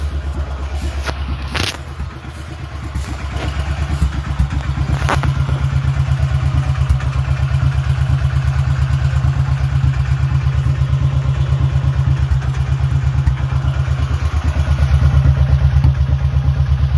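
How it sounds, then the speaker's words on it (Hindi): Royal Enfield Bullet motorcycle engine idling close by, a loud, steady low thump with an even rhythmic beat that continues throughout without any talk. "और उधर मेरी बुलेट चालू है।"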